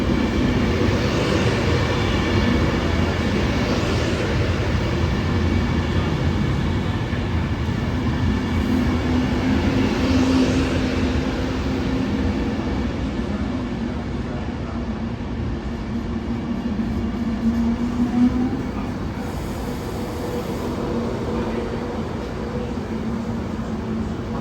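A Pendolino train on a British line rolls past with a steady broad rumble and rushing hiss, close and sustained throughout, with no talk.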